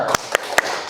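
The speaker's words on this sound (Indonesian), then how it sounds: "Biar tambah semangat, kita tepuk semangat dulu ya." A classroom of students doing a rhythmic spirit clap, three sharp, evenly spaced claps standing out over a low room murmur.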